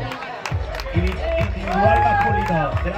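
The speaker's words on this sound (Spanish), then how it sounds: "Vamos, un aplauso" Crowd applause and cheering for the winners of the Dragon Battle Race in Santiago del Teide, steady clapping under an announcer's voice and children's calls.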